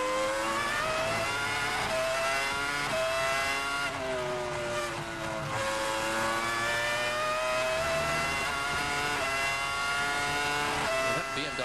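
Williams BMW Formula 1 car from the 2000 Spanish Grand Prix, a high-pitched V10 engine screaming through rising and falling revs with gear shifts, loud and continuous, with commentators talking over it.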